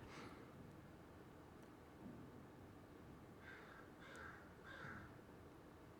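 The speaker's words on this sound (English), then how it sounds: "I got crows hanging out." Crows cawing outdoors, three harsh caws in a row toward the end, moderately distant over a quiet steady background hiss.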